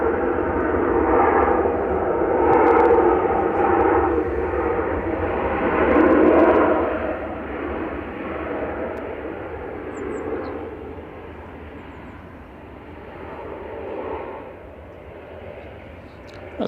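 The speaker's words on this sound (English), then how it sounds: "That's Jet 2 from Alicante," A Jet2 Boeing 737-800 arriving from Alicante at Manchester Airport passes overhead with a loud, rumbling jet roar that swells and fades in waves, then tapers off into the distance.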